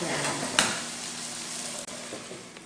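Eggplant curry with tamarind simmering on low heat under a lid, giving a steady soft sizzle and bubbling with a brief clatter near the start, close and fairly quiet, no talking.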